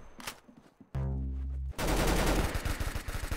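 Gunfire in a Roblox Arsenal match: scattered shots, a sustained droning tone, then a loud stretch of rapid automatic fire with sharp repeated cracks toward the end.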